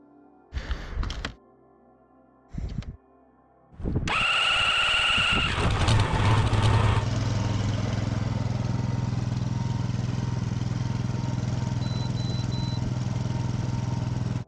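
A robot snowblower's gas engine is started: a few short pulls, then the engine catches and roars up before settling into a steady, loud, droning run close by.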